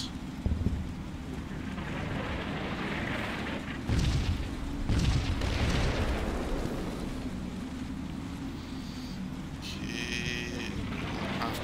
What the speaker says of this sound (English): Liking those mortars.